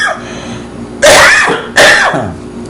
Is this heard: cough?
yes